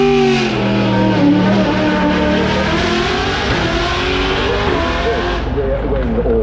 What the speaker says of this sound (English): this is the Zenvo TXRS, which is Denmark's only car manufacturer